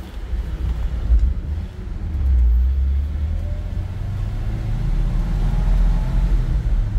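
A 1969 Ford F100 Farm & Ranch Special pickup crawling slowly in first gear, its engine a steady low rumble with a mild swell partway through, heard from inside the cab with no talking.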